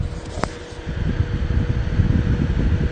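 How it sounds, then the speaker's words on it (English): A portable fridge running inside an electric car gives a steady low mechanical hum with airy noise, close and fairly loud, with a single sharp click near the start. "we now have the fridge, which unfortunately was fairly loud last night in the car."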